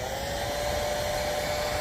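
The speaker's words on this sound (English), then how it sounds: "Now if you don't have a heat gun, you could actually use like a blow dryer" Steady, loud whirring blow dryer runs without a break, used in place of a heat gun to warm the adhesive tape of a vehicle vent visor against metal.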